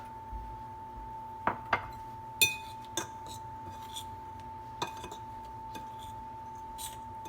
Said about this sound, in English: you're going to want to toss it as well, more lightly, with a fork